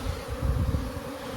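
Bees swarm and buzz loudly around an abandoned hive, a dense close drone that rises and falls as the airborne insects mill about.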